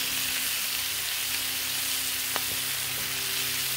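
Breakfast food sizzles and fries steadily on a 36-inch four-burner Blackstone griddle, a close, continuous hiss with a faint tap of a utensil.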